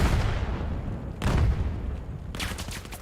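Grenade blasts in the VR shooter VAIL during a competitive match, with a steady roar of gunfire and muffled booms and a sharp burst near the end.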